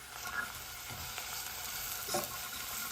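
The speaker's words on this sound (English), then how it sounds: "Oh yeah, you're sizzling now. You're sizzling." Soft, steady sizzling of garlic frying in a pan, with a few faint scraping stirs, quiet and continuous with no voices.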